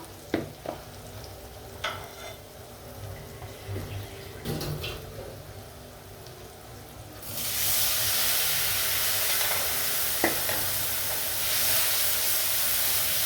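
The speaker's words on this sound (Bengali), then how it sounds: "পানিটা দিয়ে আমি মশলাটা কষিয়ে নিই।" Spice paste of chili powder, turmeric and ginger stirred in a pan, with a few scrapes and clinks, then a loud sustained sizzle and hiss when water is poured in for a fish curry.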